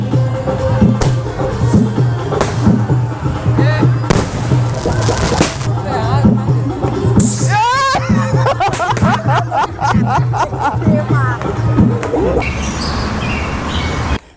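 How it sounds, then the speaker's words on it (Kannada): Loud crackling fireworks with rising whistles of hand-launched rockets shooting upward during Chhath Puja in Bihar, bursts popping repeatedly while people talk and call out nearby. "ರಾಕೆಟ್ ಮೇಲ್ಗಡೆ ಬಿಡ್ತಾರೆ ಕೈಯಲ್ಲಿ"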